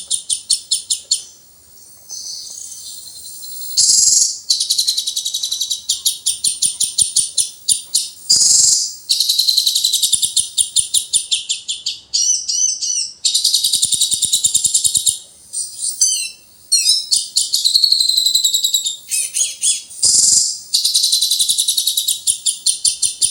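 High, shrill recorded bird song plays from a homemade bird-training playback device in repeated bursts of rapid chirps and trills, with brief pauses between phrases, loud and close.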